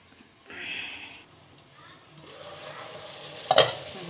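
Chicken is stirred and sautéed in a pan for a meat bhuna with pointed gourd, giving soft scraping stirs and a light sizzle, then a sharp clatter of utensil near the end.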